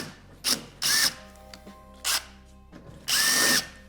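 Power drill working on a rivet at a truck running board mount, in four separate bursts: two short whirs and two longer sustained runs, close and loud with quiet pauses between.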